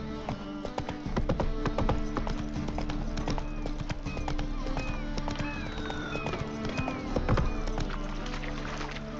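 Hooves of Geralt's horse Roach in The Witcher 3 clip-clopping steadily and close, with a dense rhythmic trot over ambient game sound and faint bird-like chirps.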